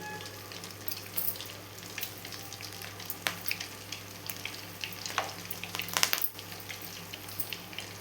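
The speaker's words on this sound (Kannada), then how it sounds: "ನಾವು ಕರಿಬೇವು ಹಾಕಿದ್ರೆ ಒಂಥರ ಸಿಟ್ ಸಿಟ ಅಂದರೆ ಆಗಿದೆ" Curry leaves sizzle and crackle in hot homemade ghee, a steady fine frying hiss with scattered sharp pops and a louder flurry near the end, close and alone without speech.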